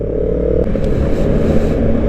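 A Bristol SRK 400 motorcycle rides along during a break-in ride, its engine a loud, steady low rumble with wind noise and a faint clatter, close and continuous.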